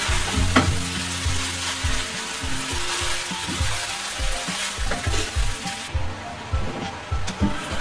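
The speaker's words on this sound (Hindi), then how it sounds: "अब अच्छे से इसको मिक्स करेंगे यहाँ पे" Vermicelli stirred and fried in a pan for a savoury seviyan pulao, with steady close sizzling and repeated scraping stir strokes running throughout, no talk.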